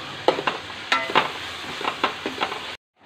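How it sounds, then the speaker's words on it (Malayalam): Sautéed onions and chopped tomatoes sizzle in a pan while a spoon stirs them in quick scraping strokes, close and clear, before the sound cuts off abruptly. "നല്ലപോലെ ഒന്ന് ഇളക്കി കൊടുക്കാം."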